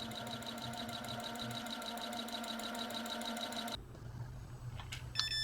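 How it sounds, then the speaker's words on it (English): An unthreaded sewing machine runs steadily to spread fresh oil through the hook area, a close, even mechanical whir with a fast rhythmic ticking that shifts to a rougher, quieter hum near the end. "Run your unthreaded machine a couple of minutes, and this will distribute the oil throughout"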